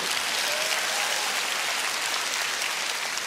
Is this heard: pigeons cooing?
no